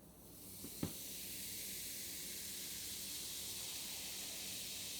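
Baking soda dropped into vinegar sets off a steady, soft fizzing hiss that starts after a faint tap and holds evenly to the end, close and quiet.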